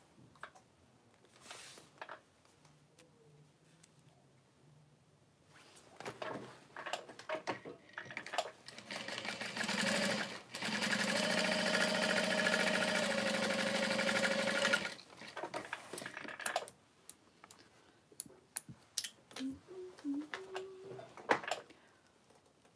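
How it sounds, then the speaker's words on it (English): A sewing machine fitted with a walking foot stitches through vinyl for a handbag, with scattered clicks and handling noises before and after one long, steady run of mechanical stitching. "The walking foot makes it easier to sew on vinyl"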